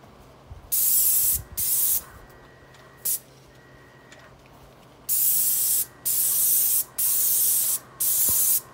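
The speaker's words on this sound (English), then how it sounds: "So I increased the pressure and I'm getting a regular spray pattern." A paint sprayer at raised pressure coating a house soffit, loud hissing bursts of about a second each, several in sequence with short pauses between, a cluster of longer ones near the end.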